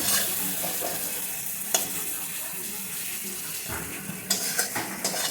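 Eggs frying with spices in a pan, a steady low sizzle with scattered scrapes and clinks of a utensil against the pan, a few sharper stirring knocks near the end.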